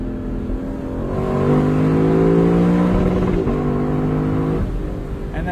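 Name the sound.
car engine revving to the rev limiter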